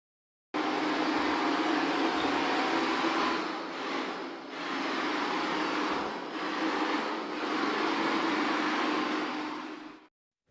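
A 360 C50 robot vacuum cleaner drives across the floor under app control, giving a steady close whirring motor and brush drone that dips briefly a few times as it turns or stops, then cuts off.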